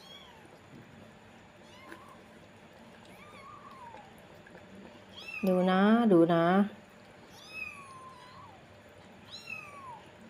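A mother cat nursing her newborn kittens lets out one loud, drawn-out meow close by, surrounded by softer, higher mews scattered through the scene while someone talks quietly.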